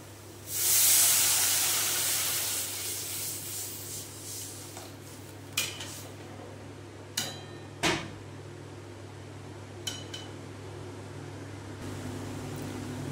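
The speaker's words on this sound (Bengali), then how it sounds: "এইবারে আমি এতে দিয়ে দেবো জল" Water poured into a hot pan of fried red lentils bursts into a loud, sustained hiss that slowly fades, followed by a few sharp clinks of a utensil against the pan.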